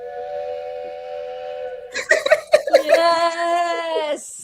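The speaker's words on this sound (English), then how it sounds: "The train whistle." A steady tonal whistle sounds, then laughter bursts in over it before a second whistle blast rises and holds, loud and close.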